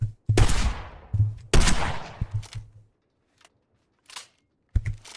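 Two loud, close shotgun blasts in the Minecraft Create mod fire nail pellets from both barrels, each with a sharp report and decaying tail, followed by softer mechanical clicks of reloading.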